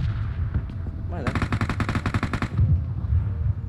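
Rapid gunfire from a battle-royale shooting video game, a dense burst of repeated shots lasting over a second, loud and close, with a player talking over game sounds before and after.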